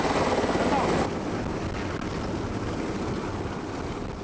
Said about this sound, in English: the injured man is winched up to the helicopter